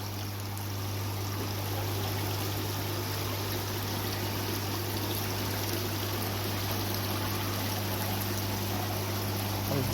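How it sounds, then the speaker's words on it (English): A small electric garden water feature at a garden centre gives a steady, soft continuous trickle of running water, with a low constant hum underneath and no talking. "We have some nice small water features over here."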